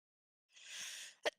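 One soft sneeze: a breathy, drawn-out burst followed by a short sharp snap, fairly quiet and with no talking around it.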